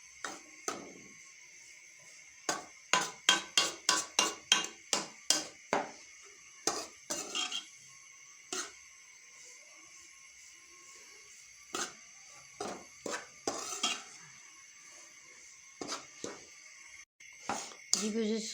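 Semolina being stirred and roasted dry in a pan for desi panjiri, a spoon scraping and knocking in quick repeated clinks, with a dense burst of taps early on, then sparser scrapes and clacks.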